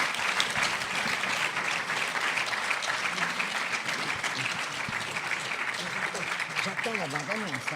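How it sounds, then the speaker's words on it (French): Loud, sustained audience applause at the Prix Jean Vigo 2018 ceremony, honouring Agnès Varda, dense steady clapping filling the room throughout, with a voice briefly heard near the end. "que je vous demande d'applaudir très fort."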